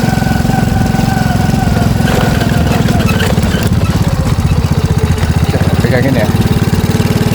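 Honda C700 motorcycle engine running steadily while being ridden on a mountain road, a continuous close, loud low hum throughout with a voice speaking briefly over it.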